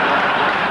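A television studio audience claps and cheers loudly and steadily for a send-off, with dense, continuous applause from start to finish.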